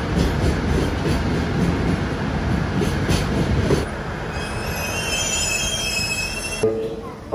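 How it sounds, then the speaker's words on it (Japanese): A train arriving at a station in Miyagi, Japan, running late because of strong wind, with a loud steady rumble and wheel noise that gives way to high squealing brakes as it slows, then ends in a soft hiss. "本日は強風のため列車を大幅に遅れての到着。"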